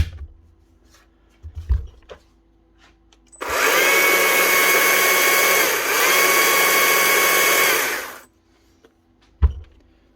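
A Stihl cordless chainsaw, freshly repaired, whirs up for a steady high-pitched electric run of about five seconds before cutting off, with light handling knocks before and after.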